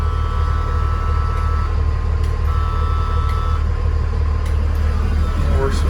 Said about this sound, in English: Hear the buzzer back there buzzing.